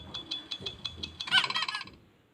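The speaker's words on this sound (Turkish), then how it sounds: "Lan ördek çıktı." A cartoonish duck sound from a quirky video game plays as a rapid series of short, bright quacking honks that build into a denser burst, then cut off into quiet.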